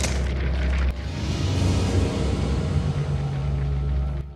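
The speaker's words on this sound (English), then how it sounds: "That was an explosion." A loud, booming explosion from the 1988 film Child's Play erupts right at the start, followed by a long rumbling roar and crackle that slowly settles over several seconds.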